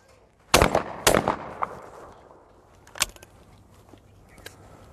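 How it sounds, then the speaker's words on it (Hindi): Two loud, sharp gunshots ring out close together on an outdoor shooting range, each trailing a short echo, followed a couple of seconds later by a fainter third crack. "अब मैं 2 शॉट्स फायर करने वाला हूँ, 2 टारगेट जाएंगे"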